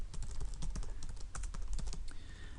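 Rapid typing on a computer keyboard while building a jQuery web page, a steady run of close, crisp key clicks with no talk over it.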